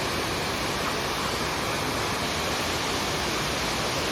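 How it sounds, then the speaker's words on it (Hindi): Waterfall in Meghalaya pouring heavily after evening rain, a dense, steady roar of rushing water that fills the whole clip without pause, loud and close, with no voices. "अभी शाम को यहाँ पर बारिश भी हुई है ना, तो इस वजह से और भी ज़्यादा फ्लो बढ़ गया है पानी का"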